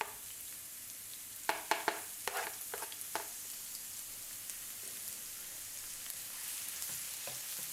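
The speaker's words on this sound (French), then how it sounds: "Quand l'huile est bien chauffée, j'ajoute de l'ail." Garlic dropped into hot oil in a wok sets off a steady, close hiss of frying, with a few sharp clacks of a utensil against the pan early on and the sizzle carrying on alone.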